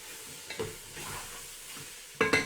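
Grated ginger being stirred in a hot pan, giving a faint, soft sizzle with a few light scraping strokes and a louder burst of frying near the end.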